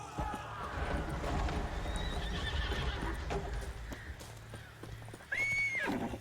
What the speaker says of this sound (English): The horses are fleeing